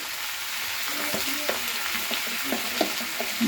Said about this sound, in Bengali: আর একটু লাল লাল করে ভাজতে হবে এটা। এভাবে নাড়াচ্ছি বারবার ধরে।